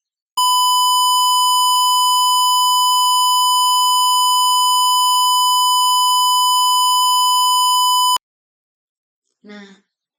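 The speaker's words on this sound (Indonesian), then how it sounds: "Nanti LED yang merah akan menyala dan buzzernya itu akan" A microcontroller buzzer gives one steady, piercing electronic beep lasting about eight seconds, then stops abruptly, followed by a brief spoken word.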